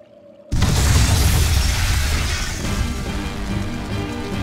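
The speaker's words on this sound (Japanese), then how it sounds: "爆発する。" A sudden loud boom in the video game Tales of Berseria bursts in after a brief quiet moment, followed by a sustained roaring, crackling rumble that slowly fades.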